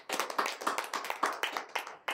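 Church congregation clapping hands in praise to God, a brisk, fairly even run of about a dozen sharp claps close by, with no talk over them.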